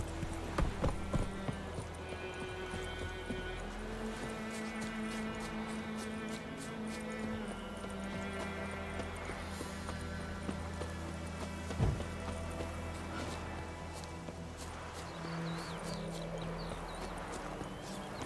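Roach the horse gallops in The Witcher 3 video game, with a steady, rhythmic run of hoofbeats over a continuous musical backdrop, moderately quiet throughout.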